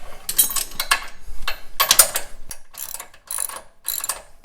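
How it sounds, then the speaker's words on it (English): Ratchet with a 1/4 inch Allen socket snugging a Stover nut on a Jeep JL steering track bar, giving loud, rapid clicking strokes in repeated bursts with short pauses between them. "this one's going to be a 1/4 inch Allen. Throw that on there and we'll just snug this up for now"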